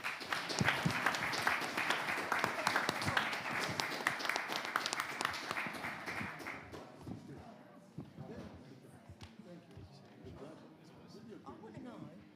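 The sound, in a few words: audience applause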